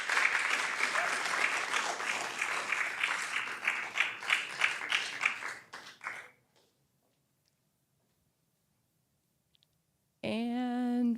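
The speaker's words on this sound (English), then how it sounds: "let's give them another round of applause" Audience applause for startup pitch presenters at a launch event, loud and continuous for about six seconds before fading to silence, after which a voice speaks.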